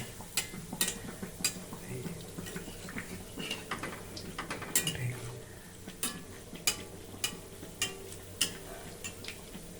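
Malpua batter frying in hot oil in a pan, the oil tilted to lift the cakes, gives a steady close sizzle broken by sharp clinks and scrapes of a utensil against the pan.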